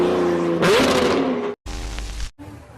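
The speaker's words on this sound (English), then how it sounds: "This Lambo driver shows off his new exhaust." A Lamborghini with a new exhaust revs hard, a loud engine roar rising in pitch, then cut to another loud burst of engine noise and a final fading rumble.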